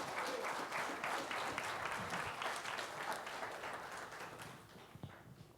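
A church congregation claps in sustained, even applause during a sermon, fairly soft and distant, gradually thinning toward the end.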